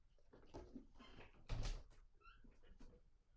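A house door opened to let a cat out: a soft handle click, a clear thunk of the door at mid-distance and faint shuffling around it, fairly quiet overall.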